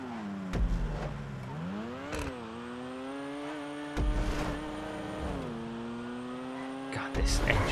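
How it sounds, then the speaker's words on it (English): The Entity XXR supercar's engine in GTA Online drones and revs through gear shifts, rising and falling in pitch, with brief louder bursts of tire or impact noise and some talking at times. "this engine sound is horrific"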